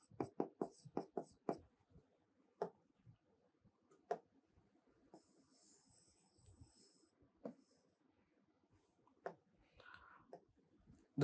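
Marker tapping and scratching as names are written on a board during an electrical engineering signals lecture, heard as a quick run of dry clicks and then sparse strokes, close and faint with no talking.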